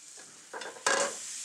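Cold butter being stirred into a Sauvignon Blanc pan sauce for chicken saltimbocca, with soft scraping strokes and a gentle sizzle that grows louder partway through, close and alone.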